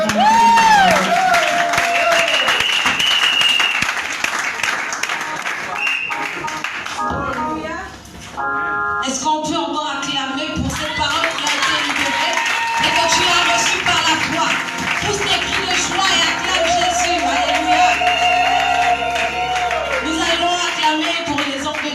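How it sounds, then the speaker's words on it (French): Congregation at a Sunday church talk show event clapping and cheering, a crowd roar with music-like tones and a voice calling out over it, sustained for about twenty seconds. "Sous vos acclamations, s'il vous plaît. On acclame, on acclame, on acclame."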